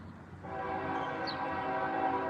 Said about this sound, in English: There is the choo-choo.